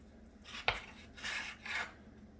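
Knife cutting bacon strips into small half-inch cubes on a board, a sharp close chop followed by two softer scraping slices, quiet and without talk.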